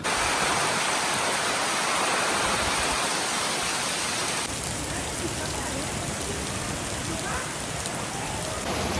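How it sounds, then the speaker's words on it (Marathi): Heavy rain pours down at Kondeshwar in the hills, a loud, dense and unbroken hiss of falling water close by, steady for the whole stretch with no voices. "खूप जोराचा पाऊस सुरू झालाय"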